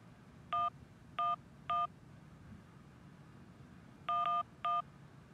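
Telephone number dialed in the video game Syberia: three spaced touch-tone beeps, a pause, then three more in quicker succession, clear and alone over a faint background hum.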